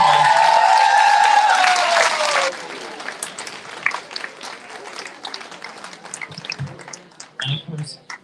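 At an awards ceremony for volunteers, a loud burst of applause with a few cheers fades out after a couple of seconds, leaving quieter room noise and a speaker's voice.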